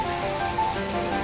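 Steady rain at the National Stadium in Singapore, a continuous, even hiss of falling water that stays close and fairly loud for the whole moment, with no voices over it.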